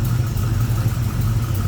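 A 1972 Chevrolet C10 pickup's V8 engine with HEI ignition idles steadily, a low rumbling drone at moderate level with no one speaking.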